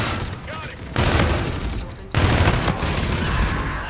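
Rapid turret gunfire in the video game Call of Duty: Infinite Warfare, a loud dense fusillade that swells in two bursts with a brief lull between.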